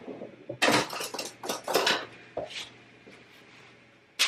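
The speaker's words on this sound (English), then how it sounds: "Now I put parchment down on my pan" Parchment paper laid down on a metal baking pan: crinkly rustles and a few clattery bumps of the pan, fairly close and moderately loud over a faint hum, with a sharp knock at the very end.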